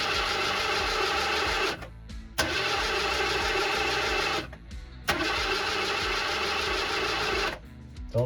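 A 1979 Ford Bronco engine cranks over in three long attempts without catching, a loud, rapid whirring churn at close range separated by brief pauses, apparently starved of fuel.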